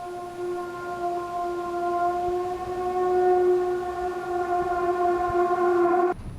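A drone detector alarm sounds inside a police evacuation vehicle moving through a battered town in eastern Ukraine. It holds a steady, loud, multi-toned electronic wail close by, then cuts off abruptly at the end.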